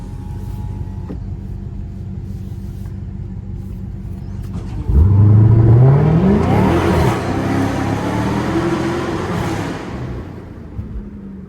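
A Dodge Hellcat launches inside a tunnel, its supercharged engine roaring loudly and echoing as a rising supercharger whine climbs with the revs, then fades back to a low cruising rumble.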